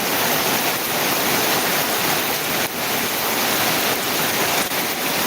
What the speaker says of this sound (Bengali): আল্লাহ কি বৃষ্টি হইতেছে আল্লাহ এরকম বৃষ্টি হইতে থাকলে কি অবস্থা